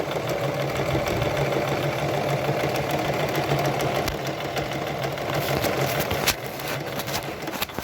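A sewing machine stitches a buttonhole with its presser foot lowered, humming with a continuous fast mechanical whir and steady needle chatter close by, shifting slightly near the end, with no one talking.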